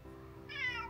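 A cat at lodgings in Damyang, near a bamboo fence, gives a single short meow rising in the second half, quiet and close with no talk.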